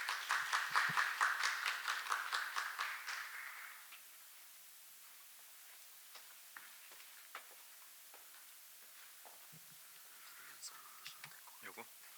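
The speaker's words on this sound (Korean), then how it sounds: "한국체육학회 김도균 회장님을 큰 박수로 환영해 주시기 바랍니다" An audience at an international martial arts academic seminar claps in welcome, a fairly brief burst of applause that fades out after a few seconds, leaving near-silence with a few faint clicks.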